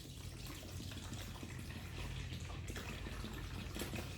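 Two litres of grape juice poured into a container for homemade wine, a steady close gushing splash lasting several seconds with no talk.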